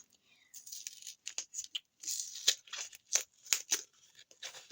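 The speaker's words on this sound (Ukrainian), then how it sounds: "Напевно, що зараз порвемо пакетик." Crinkly tearing and rustling of a small plastic packet, in short bursts close to the microphone.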